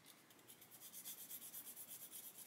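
Sanding stick rasping sprue nibs off a plastic model part, a steady run of quick back-and-forth strokes, close and fairly quiet, with no other sounds.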